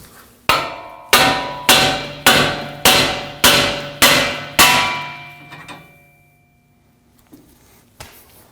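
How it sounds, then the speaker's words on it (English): A hammer strikes the steering knuckle of a 2016–2022 Honda Pilot to free the tie rod: seven sharp metallic blows at an even rhythm, close and loud, followed by a few lighter taps. "To remove the tie rod from the knuckle, we're going to strike the end of the knuckle with a hammer right here."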